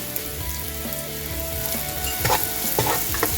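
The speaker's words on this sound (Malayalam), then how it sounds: "സവാളയും തക്കാളിയും ഇഞ്ചി വെളുത്തുള്ളി എല്ലാം നന്നായിട്ട് വഴറ്റിയിട്ടുണ്ട്." Onion, tomato, ginger and garlic sautéing in a pan for mutton pepper roast, a continuous dense sizzle with repeated spoon scrapes and stirring clatter growing busier toward the end, close and steady with no voices.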